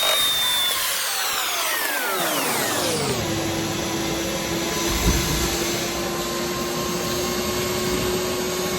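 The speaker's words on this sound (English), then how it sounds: "All vacuumed out." Vacuum cleaner running on the floor of a 1971 Ford F100 truck cab, winding down in pitch then holding a loud steady whine with a brief bump midway, close and with no talking.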